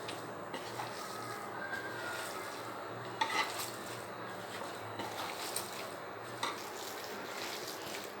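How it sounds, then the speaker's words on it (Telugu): Wet squelching and stirring of a thick cabbage batter for veg manchurian being mixed by hand, with a few soft clinks against a bowl, steady and close. "ఇదంతా బాగా మిక్స్ అయ్యేట్టు చక్కగా కలుపుకోండి."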